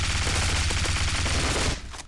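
Gunfire in the shooter game Bullet Force: a dense, loud burst of rapid automatic shots running continuously for nearly two seconds, then tapering off abruptly.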